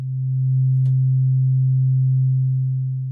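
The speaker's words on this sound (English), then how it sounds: "I'm going to take the sine wave again, patch it to green to synchronize everybody here" A steady, pure electronic sine tone from a modular synth oscillator holds at one low pitch throughout, loud and unwavering, with a brief faint click near the start.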